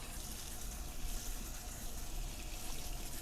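Tap water pours steadily in a close, even broadband rush while houseplants are watered indoors, with no voices.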